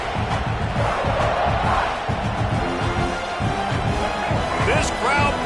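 A football stadium crowd roars and cheers in a steady, dense wash of noise that holds loud throughout, with voices mixed into the din.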